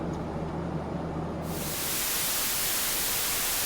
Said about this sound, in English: The noise reduction actually produces a little bit of like white noise in the background